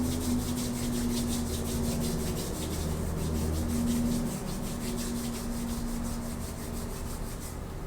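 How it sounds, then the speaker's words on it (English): Palms rubbing steadily together, a continuous dry friction hiss with a faint rhythmic pulse, fairly close and alone, with no voices. "Rub the palms of your hands together and the soles of your feet together."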